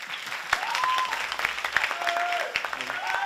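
An audience at a club anniversary show claps in a sustained round of applause, dense and fairly close, with some cheers and a voice over it.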